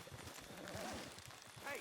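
Horse hooves clip-clop in a steady trotting rhythm in Red Dead Redemption 2, with a brief whinny-like sound at the end.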